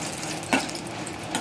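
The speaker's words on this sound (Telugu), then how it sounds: "కొంచెం ఎండుమిరపకాయలు వేసేసి ఏం చేసుకుందాం. నిదానంగా సిమ్లో వేయించుకోవాలండి" Dried red chillies fry slowly in oil on a low flame, a soft steady sizzle close by with one brief clatter of stirring partway through, no talking.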